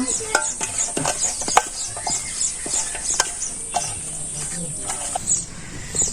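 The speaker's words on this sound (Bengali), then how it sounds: "ভালো করে মিশে নেব" Ground lentil mixture stirred by hand in a Bangladeshi village kitchen, giving a steady run of soft scraping and sharp clicking strokes at close range, with faint background hum throughout.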